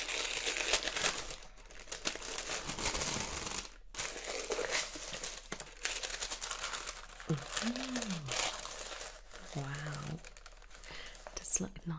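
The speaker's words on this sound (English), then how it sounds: "pink tissue paper" Pink tissue paper crinkles and rustles in bursts as a Glossybox beauty box is unpacked up close, the crisp crumpling broken by short pauses and a few soft spoken murmurs.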